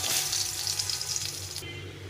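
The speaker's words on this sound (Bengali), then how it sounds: "বড়িগুলোকে লাল লাল করে ভেজে নেব।" Lentil dumplings (bori) fry in a little hot oil in a wok, giving a steady, close bright sizzle and hiss that thins out near the end.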